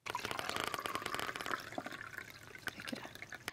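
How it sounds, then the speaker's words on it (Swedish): Vinegar is poured into a glass as a continuous close trickle and splash for a few seconds, then it thins out into scattered drips and small clinks. "Och jag ska hälla det i glaset."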